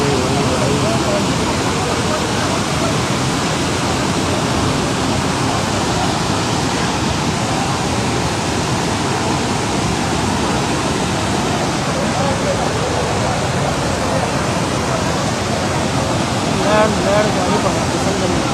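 Floodwater from heavy rain near Sawai Madhopur, Rajasthan, rushes toward the Banas river in a loud, continuous roar of churning water with voices underneath.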